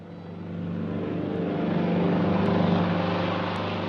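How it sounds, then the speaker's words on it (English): A steady engine drone of an airplane passing in the 1942 film Casablanca swells gradually and holds, a continuous low roar with no voices. "Every single time there's a plane that goes through or a plane that takes off"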